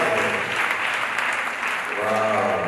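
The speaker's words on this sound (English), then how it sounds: "let's clap for him all the time" Mourners at a funeral in Korle Gonno applaud together, a steady dense wash of clapping that holds for nearly three seconds with faint voices mixed in.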